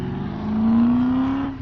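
A car revs up as it drives past, its engine note rising steadily and swelling louder over about a second before easing off as it moves away, with no talking.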